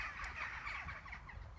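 Several birds calling at once in a breaker's yard, with turkey-like gobbling in a steady noisy chorus of squawks and calls that stays fairly loud throughout.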